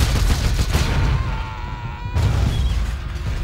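A gatling gun in Command and Conquer: Generals fires a rapid, rattling burst, pauses briefly, then resumes, loud and close with no talk.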